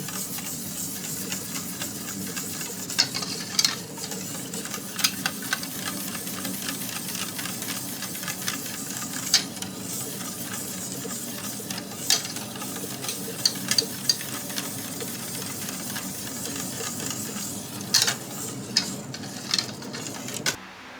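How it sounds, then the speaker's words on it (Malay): A continuous soft scraping and bubbling of a spoon stirring thick chocolate cake batter in a pot, with occasional sharper clinks against the side. "Kena selalu kacau tau. Jangan lupa."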